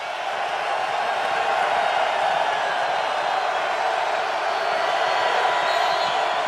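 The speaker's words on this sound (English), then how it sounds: "that gets a crowd into it here in Tampa" Stadium crowd at a 2008 Tampa Bay Buccaneers versus Carolina Panthers NFL game, a continuous broad roar of many distant voices, steady and even, with faint commentary underneath.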